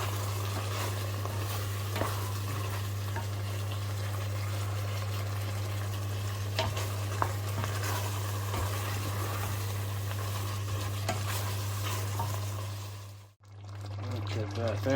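Green beans and chicken gizzards with potato cook in a pan, a soft continuous sizzle with occasional stirring clinks over a steady low hum, close by, cutting out briefly near the end.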